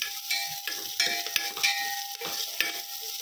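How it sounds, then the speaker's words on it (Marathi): Finely chopped onion with chilli fries in a pan, a steady close sizzle broken by several scraping stirs of a spoon, with no voices. "कांदा गोल्डन ब्राऊन कलर होईपर्यंत आपल्याला भाजून घ्यायचा आहे."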